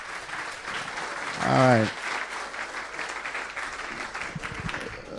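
Applause from a symposium audience for Prof. Carolyn Cooper, a steady wash of clapping running throughout, with a man's brief spoken remark over it near the start.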